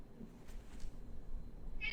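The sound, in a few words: cat meowing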